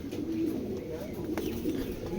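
Racing pigeons coo in a low, steady murmur close by, their soft repeated calls blending into a continuous background of pen noise with no clear pauses.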